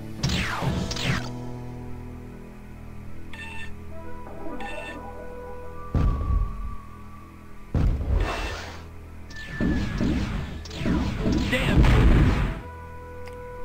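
A space-combat crate blows up in Privateer Gemini Gold, heavy booming blasts and crashes sounding out in several loud bursts over a droning engine hum, with someone talking between them.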